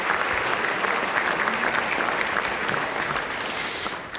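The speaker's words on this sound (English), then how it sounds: "give yourselves a round of applause" A museum audience at an evening book talk breaks into sustained applause, dense and even for several seconds before easing slightly at the end.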